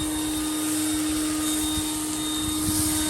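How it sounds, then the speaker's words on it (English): Ryobi 40V HP leaf blower, a larger model of around 700 CFM, running continuously and close by, a loud steady rushing whine with a constant tone and no pauses. "this is the Ryobi 40V blower. This is the bigger one."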